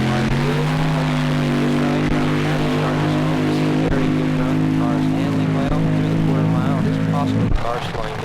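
A drag racing car's engine drones with a steady, loud, tonal roar on the strip after a run, holding an even pitch before it changes near the end.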